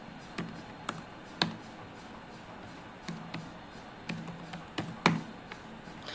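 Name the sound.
typing name on computer keyboard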